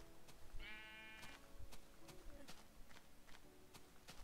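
Sheep bleat in the Minecraft video game, one clear wavering bleat near the start, with soft footsteps and faint game sounds around it.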